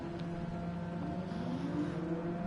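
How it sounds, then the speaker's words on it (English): A race car engine revs at the start of a sim racing game race at the Red Bull Ring, a steady buzzing whine with layered tonal harmonics, fairly quiet and continuous with no talk. "So, revs are up."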